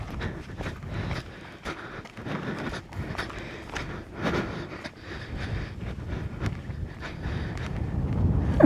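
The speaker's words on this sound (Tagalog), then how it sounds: "Damang-dama natin yung hangin." Gusty outdoor wind buffets the microphone in uneven rumbling waves, loud and close, rising and falling without pause.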